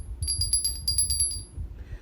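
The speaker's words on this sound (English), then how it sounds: "So the last thing I'm going to include here is a bell." A small, light bell rung for witchcraft cleansing, its bright ringing tone struck repeatedly in a quick series of about eight close, clear strikes, then fading out.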